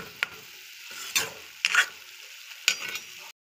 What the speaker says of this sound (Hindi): अब स्टफिंग को अच्छी तरह से भून भून के लाल कर लेना है।